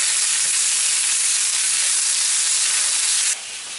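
Asparagus seasoned with salt and pepper sizzling in a pan, a bright steady hiss held close and loud, dropping suddenly quieter near the end.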